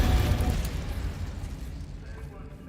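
A fire spell cast in a video game bursts with a broad whooshing roar that fades away over a couple of seconds, while a voice is heard briefly at the start.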